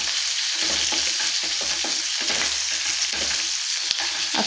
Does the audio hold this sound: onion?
yes